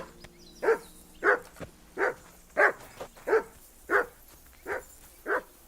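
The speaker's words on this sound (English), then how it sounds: "I assume you can hear that damn dog of yours barking." A dog barks in the video game Kingdom Come: Deliverance II, with about nine evenly spaced single barks, fairly loud and clear with no talk.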